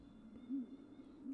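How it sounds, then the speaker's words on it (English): An owl in the video game Tiny Bunny gives a single soft, low hoot, faint and somewhat distant over a quiet ambient hum. "This is an owl."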